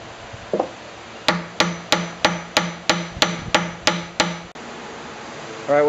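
Hammer blows drive a glued wood patch into a rosewood chest, about ten sharp, evenly spaced strikes close by, followed by a brief rustle.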